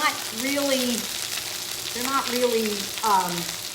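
Beef pieces searing in a pan for a gluten- and dairy-free beef stroganoff, a steady sizzle running under a man's speech that continues across most of the stretch.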